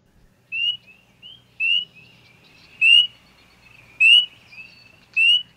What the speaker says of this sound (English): These are spring peepers.